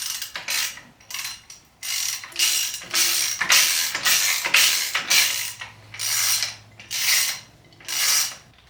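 A ratchet wrench loosens 10mm oil pump bolts on an engine, giving repeated loud clicking bursts in an uneven back-and-forth rhythm, close by with no talk.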